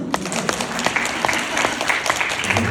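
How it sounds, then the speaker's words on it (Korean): An audience at a careers-education talk concert in Gwangju gives dense, sustained applause, many hands clapping close together, bright and loud for the whole stretch with no voices on top. "박수 한번"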